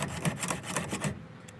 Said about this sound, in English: So this is how you sharpen a chainsaw.